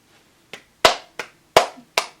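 Five sharp, separate hand claps ring out close and clear, unevenly spaced, with quiet between them and no voices.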